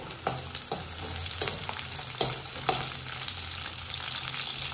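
Garlic cloves, about eight to ten, sauté in a pan alongside onions, a steady close sizzle with occasional sharper clicks of stirring, no voices.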